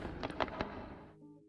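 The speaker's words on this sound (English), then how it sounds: "my miners are busy channeling out the trench." Several sharp, quiet clinking picks and digging impacts from dwarf miners channeling out a trench in Dwarf Fortress, irregular taps clustered within a second and then trailing off, faint in the background.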